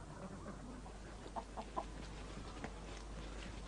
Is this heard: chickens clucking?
yes